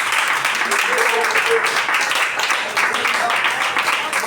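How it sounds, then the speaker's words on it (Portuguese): A church congregation claps during a Portuguese-language worship service, sustained dense applause mixed with voices and cheering throughout. "bate a salva de palmas para Jesus."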